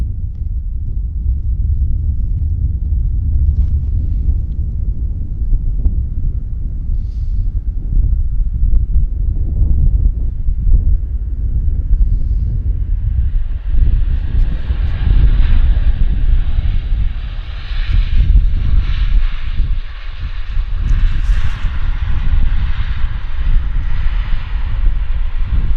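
A United Airlines airliner taxis toward the far taxiway at Vancouver airport, its low engine rumble mixed with wind buffeting, a higher whine rising partway through and holding steady to the end.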